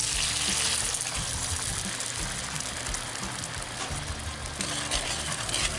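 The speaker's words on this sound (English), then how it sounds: "We'll get 3 cups of water." Water goes into a paella pan over an open fire, a continuous splashing, trickling wash mixed with hot sizzling, steady and close with no talking.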